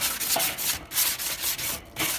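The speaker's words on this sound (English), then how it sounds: "hold it with a pair of tongs, and then just rub this back and forth" A wire grill brush held in tongs scrubs back and forth across a hot charcoal BBQ grate, loud rasping strokes in an uneven rhythm with brief pauses between passes.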